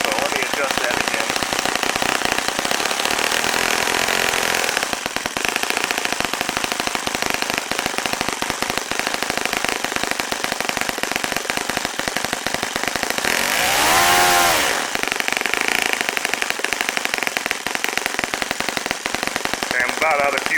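A Saito FA-65 four-stroke model aircraft engine runs loud and steady throughout, its idle being adjusted with the throttle fully closed, with a brief surge in pitch around the middle.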